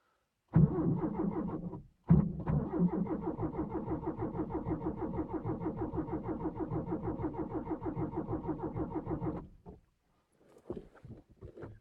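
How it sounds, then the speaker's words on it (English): A carbureted Subaru engine cranks briefly, pauses, then catches and runs at a steady, even idle for several seconds before shutting off, heard close and loud. "All we had to wait for was for the fuel to pump up to the carburetor."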